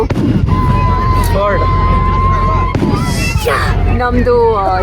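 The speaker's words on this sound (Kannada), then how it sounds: "ಇವಾಗ ಫೈರ್ ವರ್ಕ್ಸ್ ಎಂಜಾಯ್ ಮಾಡ್ತಾ ಇದ್ದೀವಿ" Fireworks burst at a nighttime festival celebration with DJ dancing, a loud continuous wash of crackle and pops under steady crowd noise and talking voices throughout.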